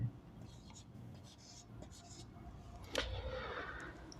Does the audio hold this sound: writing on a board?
yes